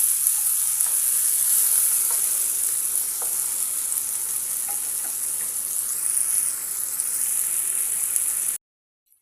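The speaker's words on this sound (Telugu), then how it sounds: "ఇంక ఇప్పుడు ఇదంతా మొత్తం బాగా కలబెట్టేసి ఒక 3-4 నిమిషాలు టమోటా అనేది మగ్గనివ్వండి." Tomato, egg and onion frying in a pan, a loud, continuous bright sizzle with faint occasional stirring ticks, steady for several seconds before cutting off abruptly.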